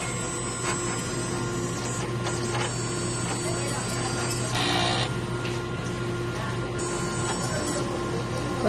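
A sublimation printer runs a print head cleaning cycle with a steady mechanical whir and hum, plus a brief louder whooshing pass in the middle. A faint voice can be heard in the background.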